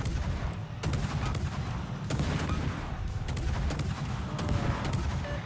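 Steady dense gunfire and artillery-like booms from a naval combat video game, near and loud throughout with repeated sharp shots over a rumbling battle bed.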